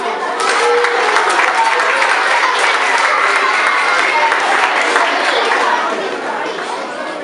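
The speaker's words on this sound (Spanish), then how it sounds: "Un forte aplauso" Loud, dense applause from a school carnival audience of parents and pupils before a fifth-grade dance, with crowd chatter mixed in and a slight fade near the end.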